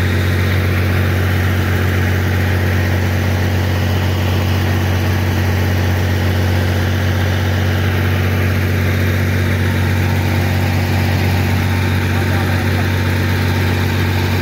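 A tractor-driven spray pump works in a guava and mango orchard, sending pressurised spray over large trees. Its steady, loud low-pitched engine drone with a constant hum runs without a break throughout.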